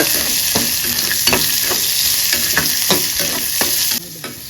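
Onions sizzle in a pan with peanuts for bread upma while a spoon scrapes through them in steady, repeated strokes, close and clear over a constant frying hiss.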